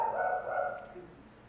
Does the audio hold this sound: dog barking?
yes